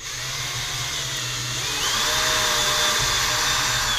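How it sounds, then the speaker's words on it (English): Power drill boring half-inch-deep holes into a wooden cabinet's lock recess, a steady loud whine that rises in pitch midway and runs continuously throughout, with no talking. "I'm drilling holes in it about half an inch deep."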